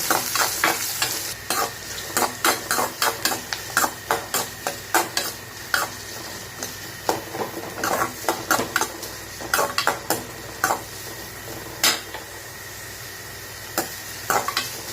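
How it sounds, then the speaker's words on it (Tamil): Chopped onions sautéing in oil in a pan right after mustard seeds have popped, with a steady sizzle and frequent sharp clicks and scrapes of a spoon stirring against the metal throughout, close and continuous with no talk. "அந்த வெங்காயத்தை போட்டு நல்லா வதக்கிக்கலாம்."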